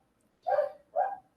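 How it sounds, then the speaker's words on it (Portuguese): Neighborhood dogs give two distinct barks about half a second apart, moderately near, with no talk over them. "Começou a cachorrada da vizinhança aí."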